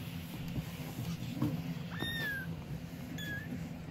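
Young kittens meowing indoors, two or three short rising mews standing clearly above a low, steady room rumble, with no talking.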